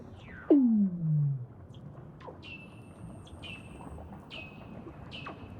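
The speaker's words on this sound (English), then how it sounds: "They're actually the calls of Weddell seals." Weddell seals calling underwater beneath Antarctic ice: one loud descending sweep, then a series of fainter, eerie electronic-sounding whistles and chirps spaced out across a quiet background.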